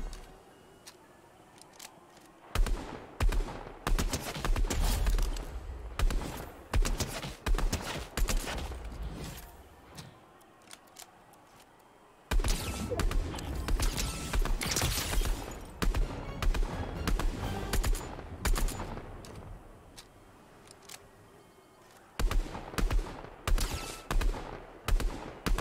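Rapid gunfire bursts in Fortnite's No Building mode, loud and close, coming in dense volleys separated by brief quieter gaps, with no talking over them.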